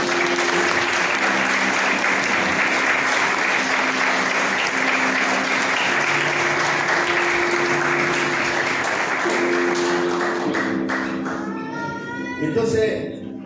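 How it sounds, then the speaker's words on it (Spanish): A church congregation applauds steadily and loudly, a dense wash of clapping throughout, while a voice sings or calls out over it and the clapping thins toward the end. "¿Cuánto le da un aplauso a Dios?"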